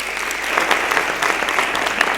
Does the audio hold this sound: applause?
yes